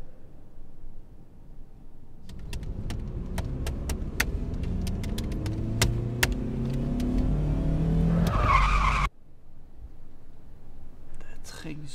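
A car skids with rising, drawn-out tire squeals building over several seconds to a loud peak, then cutting off abruptly, followed by faint rustling.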